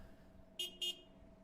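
Two short, bright car horn honks in quick succession in a candy and toy store simulator game, sharp against a quiet hum.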